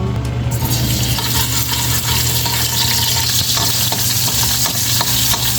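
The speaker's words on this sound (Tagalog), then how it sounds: "pag uminit na ang mantika, syempre ilagay na natin ang bawang" Garlic frying in hot cooking oil for pakbet, a loud, steady, dense sizzle that runs unbroken throughout with small crackles and pops scattered on top.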